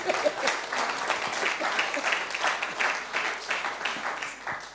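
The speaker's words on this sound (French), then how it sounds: "Alors, on l'applaudit" An audience at a religious gathering breaks into steady, dense applause, many hands clapping together at close range for several seconds with no voices over it.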